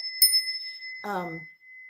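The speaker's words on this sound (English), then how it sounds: "my Balinese clearing bell, that has a frequency that it takes apart energetic imprints" A Balinese clearing bell struck once, a bright sharp ring that hangs as a thin sustained tone, followed by a brief voice speaking over its fading resonance.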